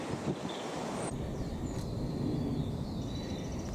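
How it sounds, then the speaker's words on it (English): Gusty wind blows outdoors beside an old railway line, a steady broadband rush buffeting the microphone, with faint high chirps or whistles drifting through. "It's getting awfully windy now"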